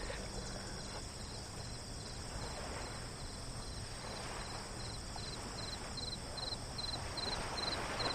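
A cricket chirps outdoors on a dock by the water, a faint, regular pulsing trill repeating evenly over a soft, steady ambient hiss, with no voices.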